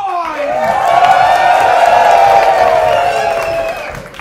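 A live studio audience at a holiday stage show in a playhouse whoops, cheers and yells on cue, a loud sustained roar of many voices that swells, holds and then fades near the end.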